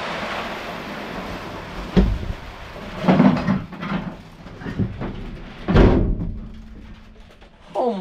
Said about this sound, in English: Okay, let's shut the door.